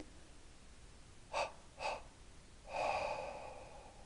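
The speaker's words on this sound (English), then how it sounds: "take another breath and exhale like this again" During a beginner's yoga meditation, two quick breathy inhales come first, then a longer, audible exhale through the mouth, close and soft against a quiet hissing background with no talking.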